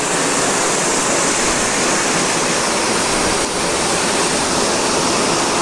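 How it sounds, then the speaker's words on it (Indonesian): River rushing below a small prayer house perched on a steep cliff bank, a dense, continuous roar of flowing water that fills the whole scene at steady loudness, with no voices. "Kita review sungai di samping musola."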